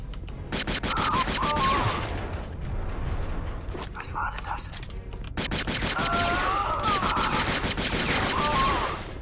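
Rapid bursts of gunfire in the video game Jedi Knight II: Jedi Outcast crackle in dense volleys, pausing briefly before resuming, with a voice speaking over them.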